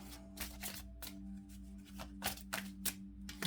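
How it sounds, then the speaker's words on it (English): Tarot cards are shuffled in quick riffling bursts, several rapid flutters in a row, quiet and close with a faint hum underneath. "3 more shuffles."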